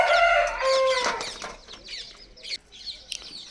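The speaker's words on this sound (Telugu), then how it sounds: "భీమవరం పెట్టలు చూపించాను కదా దాని పిల్లలేనండి ఇవి" Bhimavaram chicks and hens cluck and squawk close by on a poultry farm, a burst of loud calls at the start fading into scattered clucks and rustling.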